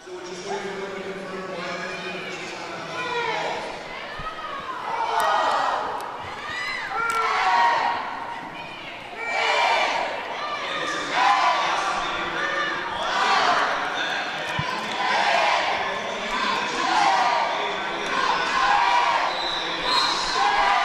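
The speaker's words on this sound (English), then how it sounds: "And now we appear to have a chant off going on in the audience." Roller derby audience chanting back and forth between Berlin and Go-Go Gent fan sections, a loud rhythmic crowd chant rising and falling over a steady arena din, with squeaks and bounces from the venue underneath.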